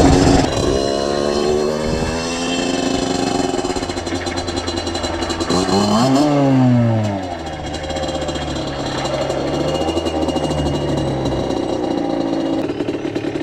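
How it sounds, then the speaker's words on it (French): A small 50cc Derbi Senda X-Treme motorcycle engine buzzes steadily, its pitch sweeping up and down as the rider shifts and rolls on and off the throttle. "Maxime va faire une petite session moto"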